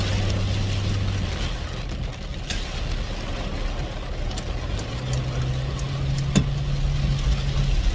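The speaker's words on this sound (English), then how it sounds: "I think I am driving the Jeep to work though." A Jeep engine runs steadily while driving, a constant low drone with a rising engine tone partway through and faint road noise around it.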